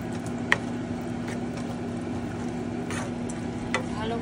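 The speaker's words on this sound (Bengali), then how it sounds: "এবার আরেকবার নাড়িয়ে নেব।" String beans masala curry is stirred in a pan, giving a soft steady sizzle with a few faint scrapes and clinks of the spoon, heard alone.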